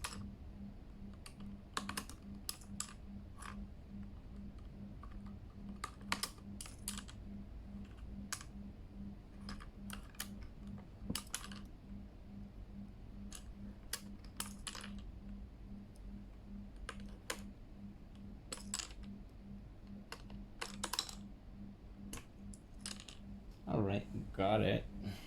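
Keycaps clicking and tapping on a Keychron K8 mechanical keyboard in irregular bursts of close, crisp presses, over a steady low hum, with a voice speaking briefly in the background.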